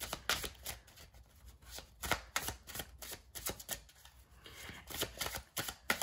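Tarot cards are shuffled by hand in a quiet room, producing irregular, close riffling and slapping bursts that repeat unevenly over several seconds.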